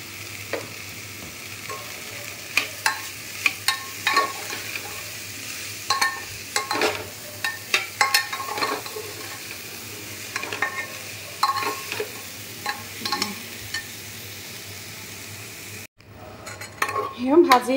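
Rice and other food fry in a pan while a utensil stirs and scrapes at it, giving irregular clinks and scrapes over a steady low sizzle; near the end the sound briefly drops and changes.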